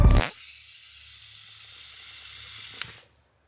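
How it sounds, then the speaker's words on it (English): A long, steady hissing spray blasts from the mouth of the Catnap monster in Poppy Playtime, opening with a sharp burst and running loud and continuous for about three seconds before cutting off. "can you shoot spray out of your mouth?"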